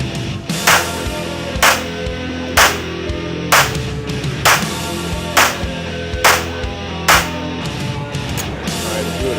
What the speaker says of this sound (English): Alright, I'm doing a charging rapid fire CZ-82.